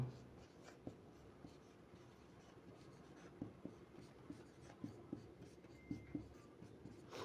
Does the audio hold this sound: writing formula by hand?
yes